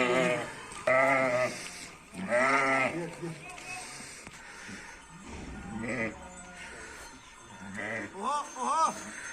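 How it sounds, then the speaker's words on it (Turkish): Several loud sheep bleats, wavering and nasal, arrive in bursts up close in a Turkish village, with people talking in Turkish between and under them. "Bak benim dediğim koyun."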